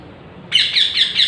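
A pet parrot gives a run of loud, harsh squawks close by, starting abruptly after a quiet moment and repeating three or four times in quick succession during walk recall training.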